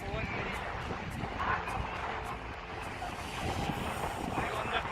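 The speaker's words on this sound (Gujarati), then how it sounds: "પવન બહુ જોરથી આવે રહ્યો." Strong sea wind buffets the microphone with a steady broadband roar, joined by a continuous wash of surf along the coast; it keeps going for the whole stretch, with faint voices mixed in.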